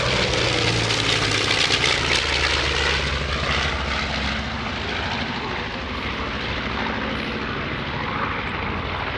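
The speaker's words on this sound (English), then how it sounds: "what is there not to like about the sound of those engines?" A B-25 Mitchell bomber's propeller engines drone loudly overhead at an airshow, a throbbing, sustained roar that fades slightly as the plane passes, with a voice faintly audible beneath.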